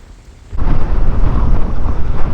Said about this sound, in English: this wind is hectic